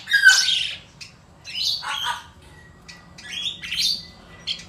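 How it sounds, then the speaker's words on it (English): A mynah bird gives a series of loud, harsh squawks and raspy whistled calls, close by, in several bursts with short gaps. "Mynah bird."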